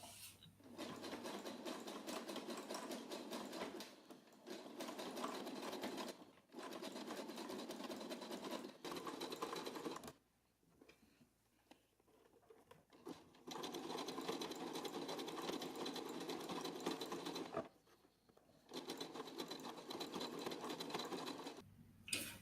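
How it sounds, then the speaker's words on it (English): A sewing machine runs a zigzag stitch through home-made fabric twine, whirring steadily in long bursts with short pauses between runs. "continue sewing with the zigzag stitch."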